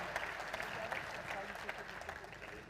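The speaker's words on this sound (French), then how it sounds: "Didier Couloumi, Loïc Jouvic, vous pouvez applaudir." Audience applause at a business awards ceremony in Haute-Vienne, France, a steady wash of clapping that runs unbroken at an even level.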